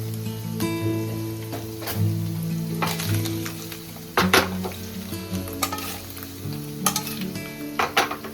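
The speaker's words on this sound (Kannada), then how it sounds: "ಒಂದು ಫ್ರೈ ಆಗಿ ನೋಡಿ" Spice powder fries in a pan for palak paneer, a close crackling sizzle punctuated by sharp spatula scrapes and metallic clinks against the pan at irregular intervals.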